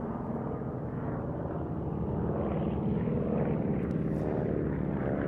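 A Beech Model 17 Staggerwing biplane drones steadily overhead at an air show, a continuous loud propeller and engine rumble holding even throughout.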